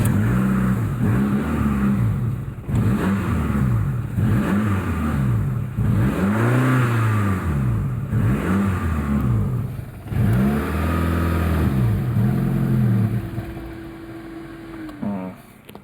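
Ford Escort Si mk6 barn find, restarted after years in storage and unwilling to idle, revved repeatedly in close rhythmic blips that rise and fall about every two seconds, then settles to a steadier hum near the end.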